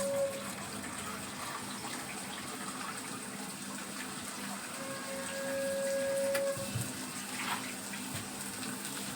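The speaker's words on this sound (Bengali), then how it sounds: "এবার দেখুন আমি কিন্তু জলটা দিয়ে দিচ্ছি।" Water pours from a bowl into rice for chicken pulao, a steady gushing splash in a quiet kitchen, close and moderately loud.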